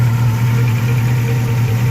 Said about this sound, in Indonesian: Nah ini mesinnya sudah hidup